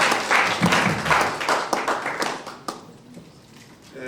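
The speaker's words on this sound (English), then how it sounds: "Let's give him another round of applause." An audience applauds after a presentation with dense, continuous clapping that gradually thins out and fades over a few seconds.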